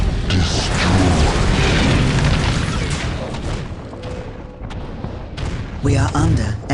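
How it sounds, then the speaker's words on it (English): Enemy gunfire and artillery rumble in the Dawn of War video game: heavy booming blasts and dense thudding explosions roll loudly, easing midway before fresh bursts return, with a voice speaking over part of it. "We are under enemy fire."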